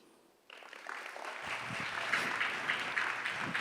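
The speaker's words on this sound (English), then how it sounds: "A warmer round of applause, people." Audience at a youth business awards ceremony applauding, the clapping starting abruptly and swelling into a full, sustained round.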